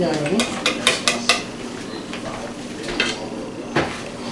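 Eggs being beaten in a bowl for a Greek recipe, with quick clinks of a utensil against the bowl in a short burst near the start and a few scattered taps later over low kitchen background noise.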